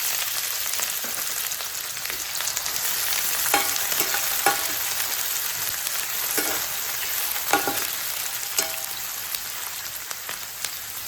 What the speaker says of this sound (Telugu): ఆయిల్ వేడైపోయింది. ఇందులో కట్ చేసుకున్న 2 ఆనియన్స్ వేసి వేసుకోవాలి.